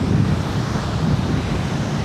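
Ocean waves and wind at Prasonisi beach on Rhodes make a constant rushing surf with heavy wind buffeting on the microphone, loud and unbroken throughout.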